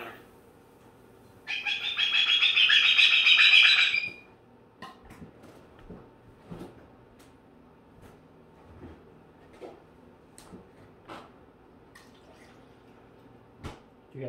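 A pet bird gives a sustained burst of high, bright squeaking for about two and a half seconds near the start, followed by faint scattered clicks, taps and small chirps in a quiet indoor room.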